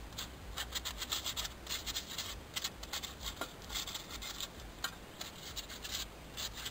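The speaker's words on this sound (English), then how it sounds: "I'm just using sandpaper. You can use steel wool too, works well, just to clean up a little bit of the rust here." Sandpaper rubs rust off a car's front wheel brake shield in quick, irregular back-and-forth scratchy strokes, close but fairly quiet, with no talking.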